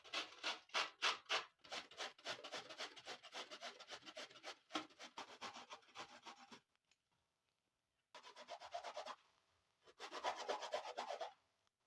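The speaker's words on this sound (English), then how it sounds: "And then I will grate it finely using this kitchen grater." Coconut grated finely on a kitchen grater in quick, rhythmic rasping strokes, close and dry. A dense run is followed by a short pause and then two more bursts, with no talking.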